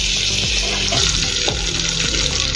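Butter sizzles steadily in a pan for dal makhani, a dense, even hiss that holds close and loud throughout with faint clinks of the pan underneath.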